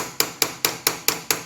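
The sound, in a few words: lightly hammering a screwdriver to bend lock washer tabs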